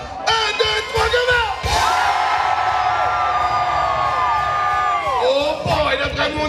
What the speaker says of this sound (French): S'il vous plaît, on crie bien fort. Un, deux, trois, go!